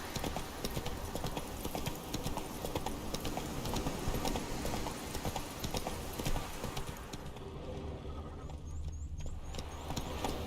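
Horse Roach's hooves clip-clop steadily in The Witcher 3, a continuous rhythmic walking or trotting gait under dense game ambience, with a faint whinny and a short break in texture near the end.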